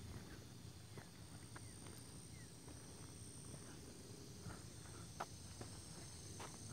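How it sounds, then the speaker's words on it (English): Cicadas or similar insects drone steadily at night in an overgrown grassy urban area, a faint continuous buzzing bed with occasional soft clicks and rustles nearby. "I think those are cicadas."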